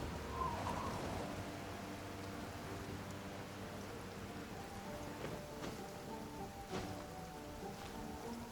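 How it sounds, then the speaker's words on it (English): Steady rain pours down in a Genshin Impact game scene, a dense even hiss of drops filling the whole stretch at a soft, constant level with no voices. "Taking a stroll in the middle of a downpour certainly rouses the spirit."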